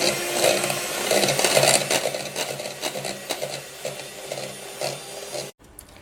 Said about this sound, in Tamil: கண்டென்ஸ் மில்க் சேர்த்து நல்லா பீட் பண்ணிக்கோங்க